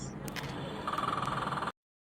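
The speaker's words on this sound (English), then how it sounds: "This is in fact another sound produced in the ocean by cusk eels." Underwater ocean recording of cusk eel calls, a short run of rapid pulsed drum-like knocks over a faint background hiss, ending abruptly.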